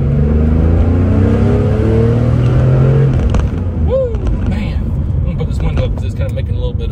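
Steady wind and road rush inside a moving 1974 Porsche 911 Carrera, with engine drone underneath, loud and continuous throughout; a brief pitch sweep occurs midway and scattered clicks appear later.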